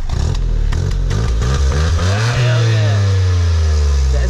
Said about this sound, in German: Jetzt hört ihr Auspuff.